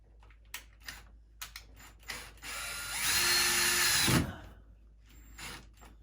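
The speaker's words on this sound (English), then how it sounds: "we're going to screw our pilot hole into our wood" A power drill drives a screw through a pilot hole into wood, one loud whirring run of about a second, bracketed by scattered clicks and handling taps.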